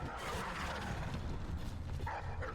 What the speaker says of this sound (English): They'll bark.